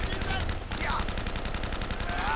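Dense gunfire rattles through a firefight in the game Uncharted, rapid overlapping shots in a loud, steady burst with no pause, close and filling the whole stretch.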